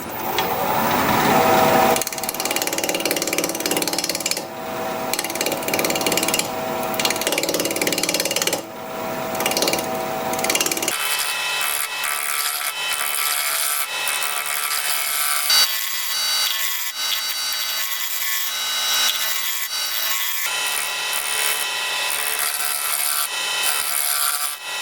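A piece of turned wood is cut by hand. Steady rubbing, rasping saw strokes come through loud and close, changing in tone partway as the cut goes on, with no talking.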